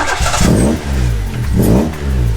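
A car engine revs loudly and close as the throttle is pressed, rising in two distinct surges with a dip between them.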